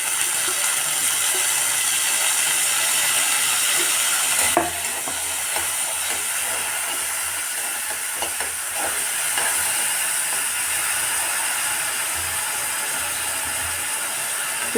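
Turkey berries fry in sesame oil in a pan, a steady bright sizzle with a sharp clatter of stirring partway through, then continued crackling and scraping.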